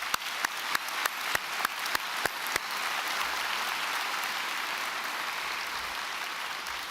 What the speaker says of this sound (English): So let's give them a round of applause as